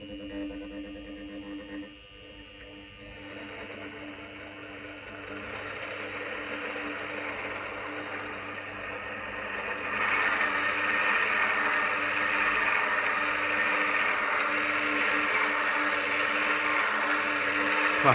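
An original Bridgeport milling machine power feed runs with a steady mechanical hum and whir that shifts upward in pitch and grows louder partway through as the speed is raised, staying continuous throughout.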